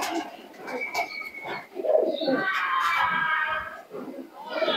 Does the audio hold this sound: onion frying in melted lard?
no